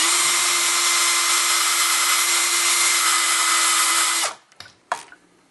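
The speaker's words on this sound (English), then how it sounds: "Got my handheld drill." A handheld power drill boring into a banjo for a geared tuner whirs steadily at high speed for several seconds close up, then stops abruptly, leaving a few faint clicks and taps.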